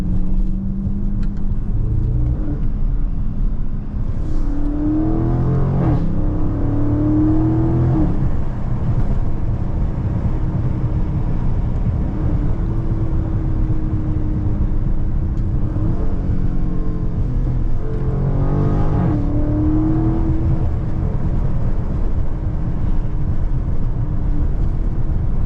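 A Dodge Scat Pack widebody's engine rumbles and revs repeatedly while doing donuts, heard from inside the cabin as steady low drone with rising rev swells every few seconds.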